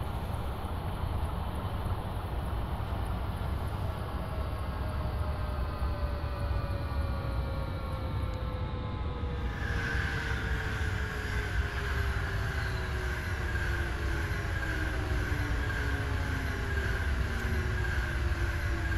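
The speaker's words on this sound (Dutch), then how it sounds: "Hoe snel kan deze trein remmen?" Simulated train slowing to a stop in Train Simulator 2021 on Dutch sprinter tracks, a steady rumbling drive with falling tonal whines as the train brakes, continuous and fairly loud throughout.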